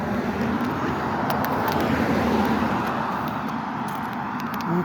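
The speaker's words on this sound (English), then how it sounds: "Here's some more traffic." Road traffic passing through a residential neighborhood in Boise, a steady, moderately loud wash of car and vehicle noise heard outdoors without talk.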